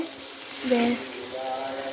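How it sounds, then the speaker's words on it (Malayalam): Small onions frying in hot oil, a steady soft sizzle and hiss close by with a faint voice-like tone drifting over it. "നമ്മൾ എണ്ണ വെച്ച് ഇത് വെച്ചിട്ടുണ്ട്. ഇതിൽ ചെറിയ ഉള്ളി വെച്ചേക്കുവാണ്."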